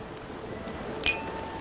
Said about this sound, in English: Raphael takes a glass of wine from the tray before clinking glasses with the guests around him